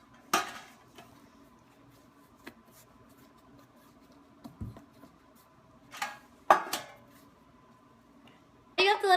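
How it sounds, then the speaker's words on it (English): Two metal bread loaf pans, pre-sprayed with butter, clink and clatter in scattered sharp knocks and scrapes on a kitchen counter, with quieter gaps between them and a louder rattle at the end. "We are using 2 loaf pans pre-sprayed with butter."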